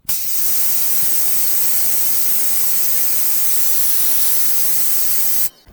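Continuous loud hissing spray from an electric pressure washer with a 15-degree nozzle, steady and close, starting and stopping abruptly.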